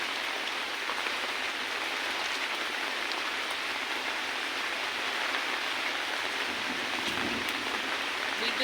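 Steady rain falls on a rooftop garden in a dense, even hiss that continues without a break, soft and constant, with no voices.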